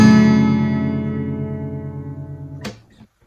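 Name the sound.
guitar chord with open strings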